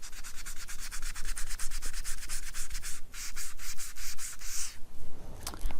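Ink rubbed onto the seams and edges of paper for a vintage floral craft project, quick rhythmic scratchy strokes repeating steadily and close, with a brief pause partway through and no talking.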